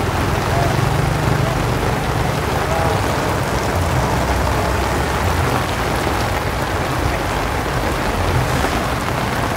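Steady heavy rain falls outdoors under a market stall at Kebayoran Lama, a dense continuous hiss with low rumble throughout, loud and unbroken.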